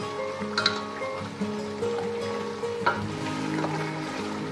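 A pot of chicken and potato curry gets stirred, with soft scraping and light sizzling over a steady cooking hiss and a few sharper clinks of the spoon against the pot.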